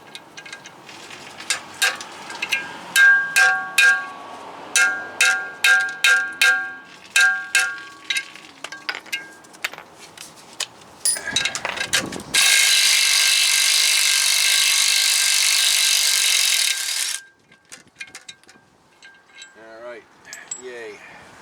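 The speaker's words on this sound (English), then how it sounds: "let's see if we can get this last bolt out of here." Removing the last bolt from a wheel bearing knuckle on a 2012 Ram 1500 Big Horn 4WD: a rapid series of sharp metallic ratchet clicks, then a few seconds of loud continuous power-tool whine, close by.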